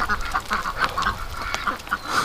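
Ducks quack repeatedly and close by in wet winter weather, a steady run of nasal calls over a soft hiss of rain.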